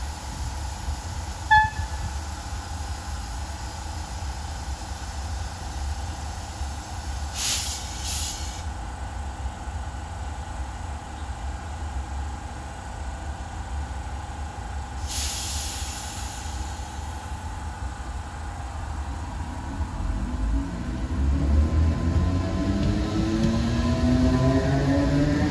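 An Irish Rail Class 8100 electric train near Dublin passes with a steady rumbling roll and hiss that swells louder toward the end, with a few brief high screeches along the way.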